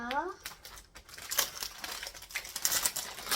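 Plastic packaging of a Christmas ornament craft kit is torn and crinkled open in a quick run of close, scratchy rips, with a brief voice at the start.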